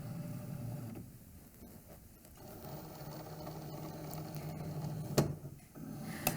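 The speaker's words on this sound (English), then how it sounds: "Right now, the machine is measuring to make sure that I have enough infusible ink material on my mat" A Cricut cutting machine whirs and clicks as it measures a loaded infusible ink transfer sheet on its mat, a steady low mechanical hum with small motor shifts and a sharp click near the end.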